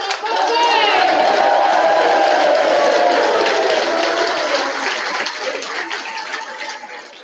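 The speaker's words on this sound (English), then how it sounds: "Please stand up, give a round of applause" Applause and cheering from a crowd at a football club tavern event, loud and sustained from the start before gradually tapering off toward the end.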